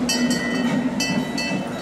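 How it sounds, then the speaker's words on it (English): An amusement park train at Europa Park rolls along its track with a steady rumbling hum and bright metallic squeals recurring every half second or so, fairly loud and close, with no talk. "There's a look at the train making its way around the park."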